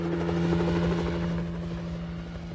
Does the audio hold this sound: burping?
no